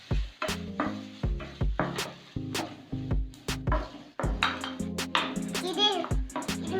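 Potatoes and vegetables are stirred in a hot pan on a home stove, giving repeated scraping and clanking strokes of a spoon over a light sizzle. A voice talks faintly at times.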